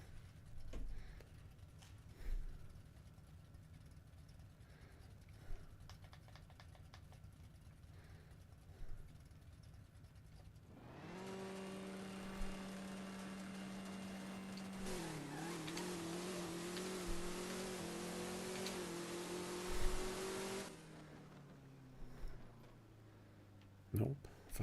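A Camaro revs and launches in a drag race against a 29 by 11 Evo in the racing game No Limit 2, its engine droning steadily for about ten seconds, pitch climbing through shifts, under occasional talk.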